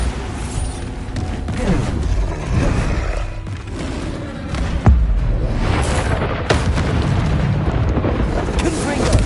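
Bombarda spell explosions in the video game Hogwarts Legacy: heavy, booming blasts over continuous rumbling game effects, with sharp impacts punctuating a loud, dense mix.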